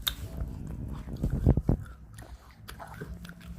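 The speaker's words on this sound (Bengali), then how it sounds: "এইভাবে শুয়ে শুয়ে ডাটা খায়," A baby lying down chews and bites on a vegetable stalk, giving a few close, wet crunching bites in a short burst, with faint background noise and no speech.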